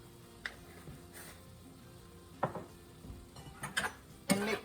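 A spoon stirs oregano and black pepper into a stromboli filling cooking in a pan, with scattered scrapes and light clinks against the pan over a faint background sizzle, growing busier toward the end.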